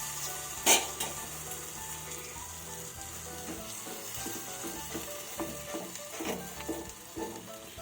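Balushahi dough sizzles and bubbles steadily in hot oil, a continuous close crackle with a sharp splashy burst near the start and scattered pops after, no voices.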